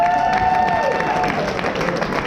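A show audience claps and cheers loudly in a hall, a continuous crowd roar of hands with a sliding tonal whine running through the first second.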